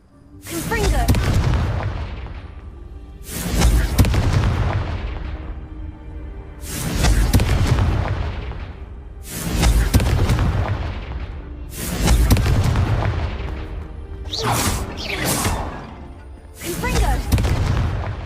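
Repeated Confringo blasting-spell explosions in Hogwarts Legacy, about seven loud booming bursts spaced a few seconds apart, each with a sharp crack and rumbling tail, while a voice calls out between them.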